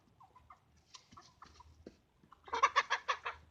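Chickens give soft, scattered clucks at first, then a quick run of louder, close clucking calls near the end, with no one talking.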